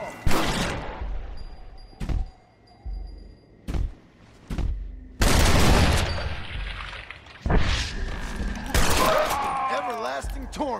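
Gunfire from the zombie-filled Western game Red Dead Redemption: Undead Nightmare, with several sharp, loud shots and booming bursts spread across the clip and people talking and reacting over the action.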